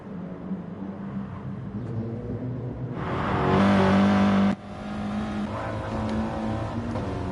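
Audi TT race cars in a racing game at Sardegna Road Track, engines droning steadily with a loud surge of revving for a couple of seconds before dropping back to a sustained, slightly quieter hum.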